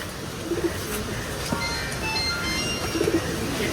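Racing pigeons coo softly in short bursts, a few low warbling calls rising over steady outdoor background noise with faint distant chirps.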